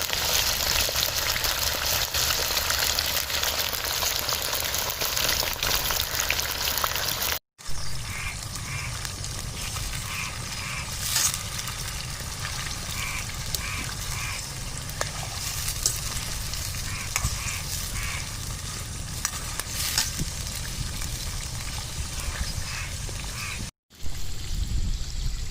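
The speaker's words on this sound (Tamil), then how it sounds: "எண்ணெயில் கறி நல்லா பொரிஞ்சிட்ருக்கு" Chicken pieces fry in hot oil for a village-style karahi, a loud continuous sizzle with stirring and scraping, broken by two brief silent cuts.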